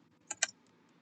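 Computer keyboard typing code, two or three quick crisp key clicks close together, close and fairly faint in an otherwise quiet room.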